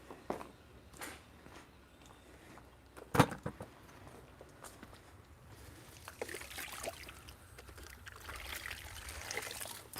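Hot water pouring for cleaning, a steady trickling and splashing stream with a sharp clunk early on, fairly close, growing a little louder and brighter toward the end.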